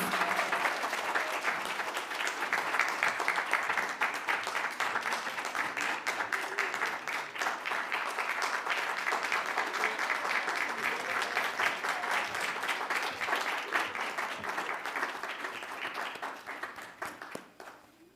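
Sustained applause from a large crowd at a graduation ceremony, steady dense clapping that carries on for many seconds before tapering off at the end.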